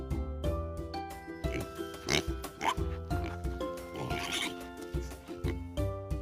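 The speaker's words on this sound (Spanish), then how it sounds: "¿Sabes cómo hace un cerdo?" Cartoon-style pig oinking in a children's animal sounds lesson, a series of short grunting oinks over cheerful background music.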